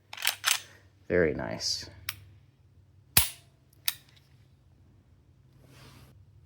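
Sharp mechanical clicks of a Ruger RXM striker-fired pistol trigger being pulled and reset, a few crisp close snaps alone in a quiet room after a brief spoken remark.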